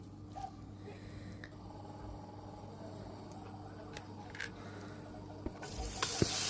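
Kuku, an egg-and-herb mixture, sizzles softly in a preheated oiled pan, a faint continuous frying hiss that swells louder near the end, with no talk.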